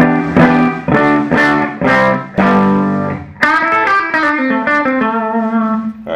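An electric guitar through an amp with a dry, clean tone plays a run of picked notes, followed by a sustained chord that rings out, heard alone and up front.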